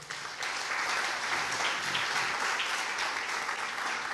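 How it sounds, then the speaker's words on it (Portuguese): A church congregation applauds during a Portuguese-language sermon, producing steady, dense clapping that stays even and sustained throughout, with no talking over it. "Aplauda o Senhor."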